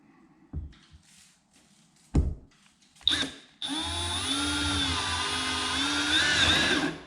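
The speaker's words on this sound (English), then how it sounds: "Got a paddle bit on a drill. I'm going to drill a hole close to the line." A few short bursts of drilling, then a power drill with a paddle bit whines continuously and loudly, its pitch wavering slightly as the bit cuts through.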